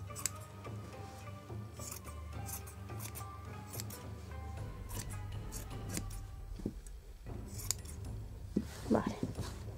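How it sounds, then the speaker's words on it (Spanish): Scissors snipping a doll's braided hair while styling it, a run of short metallic cuts close by, with someone speaking softly at times and light handling clatter toward the end. "Voy a cortar así un poquito."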